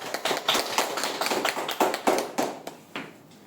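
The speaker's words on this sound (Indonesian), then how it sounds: "Boleh bantu tepuk tangan." Small classroom group clapping briefly, a few uneven bursts of hand claps close by, tapering off after about three seconds.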